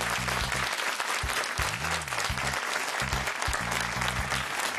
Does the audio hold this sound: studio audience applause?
yes